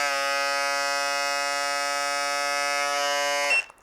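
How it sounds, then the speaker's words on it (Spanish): A BGR 378 electric shaver at 9000 RPM buzzes loudly and steadily up close for about three and a half seconds, then cuts off abruptly. "Aquí tenemos la afeitadora de 9000 RPM de la marca BGR"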